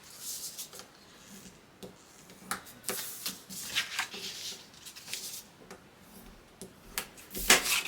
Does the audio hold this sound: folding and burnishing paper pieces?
yes